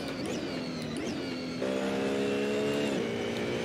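A BMW Z4 GT3 race car engine on the Silverstone circuit in a racing game, a steady droning whine that shifts pitch and steps up into a stronger harmonic roar, no talk.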